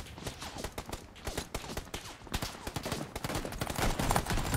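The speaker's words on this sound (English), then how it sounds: "Who is shooting?" Gunshots from the Xbox One X game PUBG (PlayerUnknown's Battlegrounds) crack out as a string of sharp, uneven bursts, fairly loud and close, with rapid irregular spacing.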